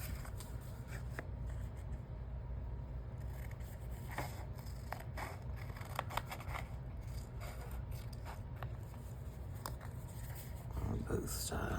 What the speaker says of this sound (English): And now I just want to cut the excess off.